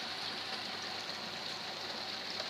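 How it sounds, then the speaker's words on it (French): Heavy rain from an unforecast summer downpour in Lœuilly, a steady dense hiss of drops pouring down without pause, loud and close, with no voices. "Vous voyez comment il pleut fort."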